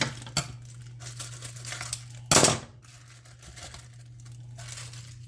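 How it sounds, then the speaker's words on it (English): A small plastic bag from a whole raw chicken crinkles and rustles close up in irregular bursts, with one sharp louder crackle partway through over a low steady hum. "This is a little plastic bag, so we have to get rid of that."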